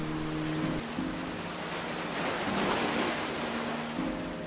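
Sea waves at Guliakhali sea beach make a steady, broad wash of surf with a gentle swell in the middle, moderately loud and continuous, with no voices.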